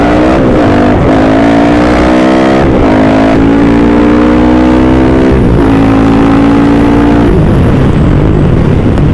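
A Yamaha Exciter motorcycle with a high-mounted exhaust pipe races on a track at Km 18 in Surat Thani, Thailand, revving hard and close through repeated gear pulls whose pitch climbs, then drops. The engine roars loud and continuous with no speech.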